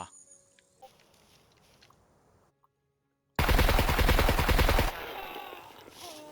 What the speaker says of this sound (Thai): ปืนแม่งดัง